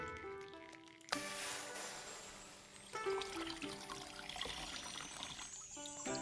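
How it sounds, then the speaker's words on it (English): Tattered rags being rinsed in a stream, soft splashing and trickling water with a few sudden louder sloshes, faint and close without any talk. "Let me rinse them first in the stream."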